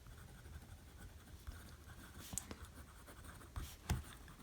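Fine, rigid nib of an Esterbrook Estie fountain pen scratching faintly across paper, a quiet continuous scritch with a few light taps, close and without talk.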